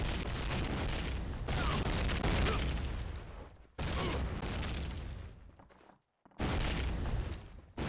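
Grenade explosions in a shooter game, heavy booming blasts and rumbling gunfire in a dense, loud stretch broken by two brief drops to near silence.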